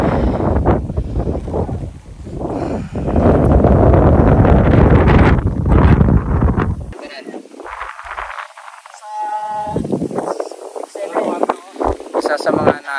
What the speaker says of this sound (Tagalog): Masarap dito kasi malakas yung hangin